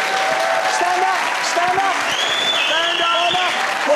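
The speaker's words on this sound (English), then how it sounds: "Give them a round of applause." Studio audience applause at a talk show fills the room in a sustained loud burst, with the host's voice calling out over the clapping.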